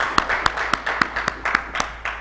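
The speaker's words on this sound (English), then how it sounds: "Let's clap hands for them." Audience applause at a real estate engagement meeting in Sunbird, Kuchawe: a room of people clapping for presenters, a steady stretch of sharp, uneven claps with individual hand strikes standing out, fairly close and without talk.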